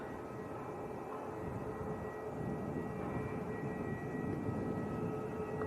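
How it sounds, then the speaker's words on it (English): Ryanair airliner taxiing out at Leeds Bradford Airport, a steady distant jet engine whine and rumble that holds level throughout, with no talk over it. "So Ryanair just taxiing out."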